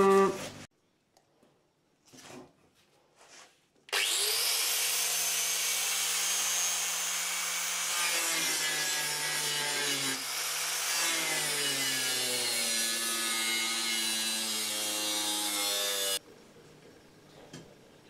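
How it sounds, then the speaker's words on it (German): A loud, continuous whining angle grinder removes rust from metal for about twelve seconds after a few brief knocks, then cuts off into quiet. "Einfach Flex nehmen und..."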